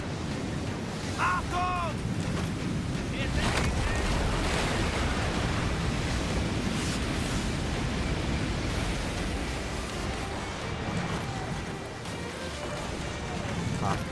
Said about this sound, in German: Riesenbrecher rollt an von Steuerbord.